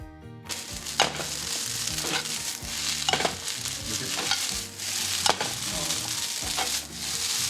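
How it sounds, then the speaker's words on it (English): Rice with ketchup stirred in a pan over high heat, a constant loud sizzle punctuated by rhythmic scraping strokes of a spatula roughly every second, close up and with no voices. "Now all we have to do is keep stirring and mixing over high heat."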